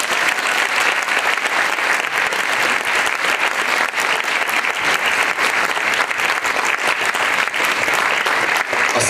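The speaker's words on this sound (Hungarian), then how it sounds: "Köszönjük meg egy nagy tapsalunknak." An audience applauds at a concert, dense sustained clapping from a large crowd filling the space steadily and loudly from start to finish.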